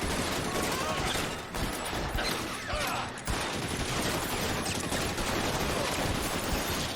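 Sustained gunfire from a shootout in the game LA Noire, dense and loud with rapid overlapping shots that fill the whole stretch, briefly dipping near the middle.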